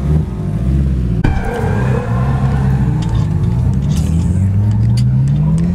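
A damaged turbocharged Honda S2000 engine runs close by, a loud steady idle with a rising whine and rough noise, plus a sharp knock near the start.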